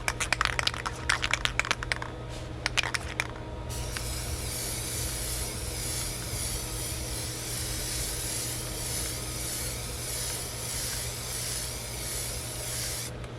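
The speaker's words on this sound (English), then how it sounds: "I'm gonna go ahead and spray this first coat" A tumbler receives a Plasti Dip coating from a spray can, beginning with a few short bursts and then a long, steady, close hiss that carries on without a break.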